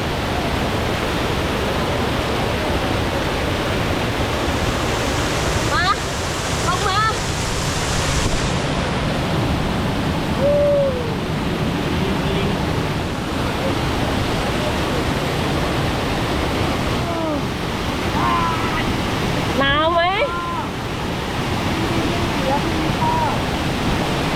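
A steady, broad rush of falling water from the Doi Tule waterfall in Thailand fills the scene without pause, with a few faint bird chirps and brief voices in the background.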